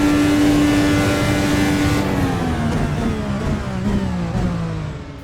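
A fast car accelerates hard in sixth gear on a public road in Northern Ireland, its engine note rising in one loud, sustained whine close by before fading slightly at the end.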